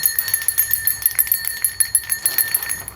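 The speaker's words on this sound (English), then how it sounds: "Oh, see the bell is ringing" A bell rings rapidly and continuously, its bright metallic strikes pulsing several times a second with a lingering shimmer, loud and close, with no voices.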